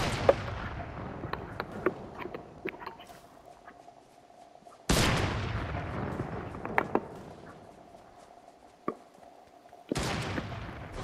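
Fortnite gunshots in three sharp bursts, each with a long decaying echo, spaced a few seconds apart, with faint scattered clicks and a soft hum between them.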